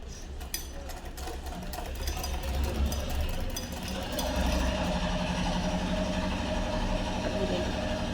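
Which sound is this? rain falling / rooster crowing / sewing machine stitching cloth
sewing machine stitching cloth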